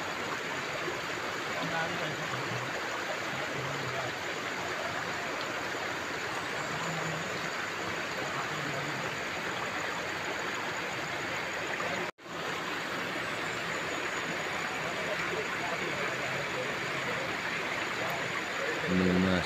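A clean, clear river flows past a riverside spot in a steady, broad rush of water that stays constant and moderately faint, with a short dropout midway and low voices mixed in.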